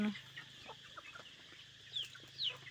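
Chickens and ducks cluck softly in the background, with a few sharp higher squawks standing out near the end; quiet and somewhat distant.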